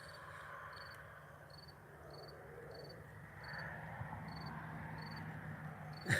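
Crickets chirp outdoors at night in New Brunswick, Canada, a faint, regular pulsing trill repeating about twice a second over a low background hum, with no talk.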